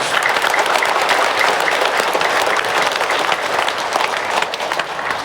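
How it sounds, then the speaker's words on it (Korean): A church congregation applauds for students preparing for their college entrance exams, giving dense, steady clapping from many hands that continues throughout at a loud, even level. "우리 이 친구들을 위해서 박수를 보내겠습니다"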